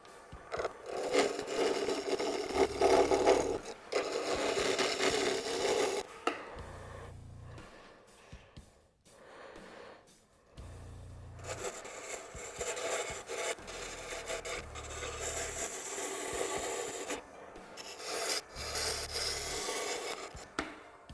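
A wooden blank is roughed into a cylinder on a Jet lathe at about 1,000 to 1,200 RPM, loud rough gouge cuts with scraping and rubbing in long passes, broken by brief quieter pauses.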